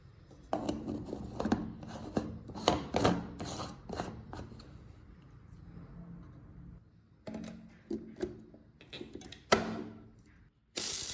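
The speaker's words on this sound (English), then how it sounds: "The sound of the grinder is steady and familiar, like a rhythm repeated for decades." A grinder works through spices, grinding them into powder in bursts of rough, rattling scraping and clicking, close up, with a quieter pause midway.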